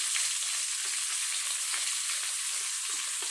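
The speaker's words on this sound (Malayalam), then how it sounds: "അടുത്തത് നല്ല രീതിയിൽ ഫ്രൈ ആയിക്കൊണ്ടിരിക്കുക." Chopped ingredients fry in a pan before ginger is added, giving a steady bright sizzling hiss close by with faint scraping stirs, no talking.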